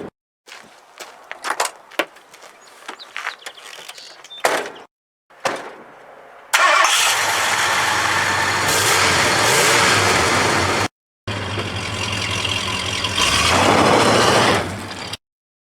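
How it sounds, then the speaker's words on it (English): A Coleman generator with diesel in its gas tank is started after a few rough attempts and then runs steadily with a loud, continuous engine drone, stopping briefly before running again. "we'll see if we'll have a nice running generator"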